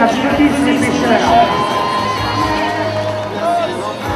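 A crowd cheers and shouts with scattered whoops at a nautical jousting tournament, a broad, steady wash of voices applauding the fishermen without a break.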